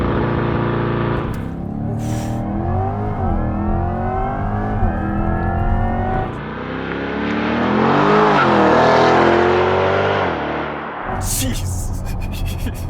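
A 2024 Chevrolet Corvette E-Ray with a 6.2-liter hybrid V8 launches hard under launch control, its engine note rising through the gears with a surging roar that peaks loudly before a sudden cut.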